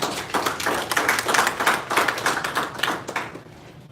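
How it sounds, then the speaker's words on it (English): Dense, steady applause from an audience at a school-hosted education workshop in Katwe, Uganda, many hands clapping continuously for about four seconds before tapering off, with no talk over it. "I would have expected a bigger hand clap."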